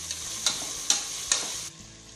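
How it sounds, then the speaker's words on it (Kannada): Onions sizzle in hot oil tempering for vegetable pulao, a steady close frying hiss punctuated by three or four sharp stirring clatters before the sizzle drops quieter. "ಈರುಳ್ಳಿ ಇವಾಗ ಸೊಪ್ಪೆಲ್ಲ ಬೆಂದಿದೆ, ಈರುಳ್ಳಿ ಹಾಕ್ತೀನಿ."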